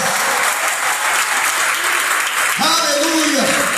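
A church congregation claps in praise, a loud sustained wash of hands, with a voice rising over it in the last second.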